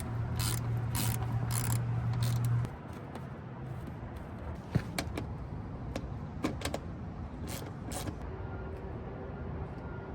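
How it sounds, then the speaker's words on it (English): A ratchet with a 10mm socket works bolts loose on a Ford F-150, giving quiet, close clicking bursts and scattered metallic ticks over a low background hum, with a brief steady tone early on. "you're gonna go ahead and undo all the bolts the whole way across"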